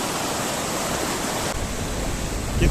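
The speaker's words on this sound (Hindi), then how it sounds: "ये बिल्कुल यहाँ से ग्लेशियर से पिघल के पानी आ रहा है" Glacial meltwater river rushing steadily nearby, a dense, loud and unbroken roar of flowing water with no voices.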